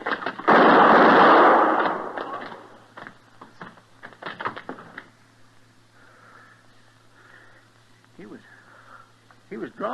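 A single loud gunshot bursts in a Western radio drama, a sharp blast with a rumbling tail, followed by quieter footsteps and scuffling before a voice speaks near the end.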